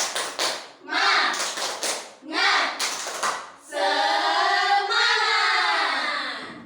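A group of children in a classroom claps in quick rhythmic bursts, then shouts together in unison.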